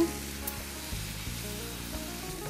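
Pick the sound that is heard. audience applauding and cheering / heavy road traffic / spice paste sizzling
spice paste sizzling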